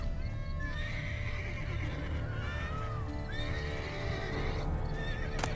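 Horse in The Witcher 3 neighs and whinnies several times, with rising and falling calls over a steady low game ambience, close and clear, with faint hoof clip-clop underneath.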